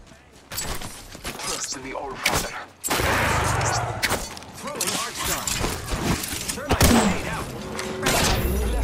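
Grenades exploding in an Apex Legends ranked match, several heavy thuds and blasts mixed with gunfire and mechanical clatter, with a player talking throughout.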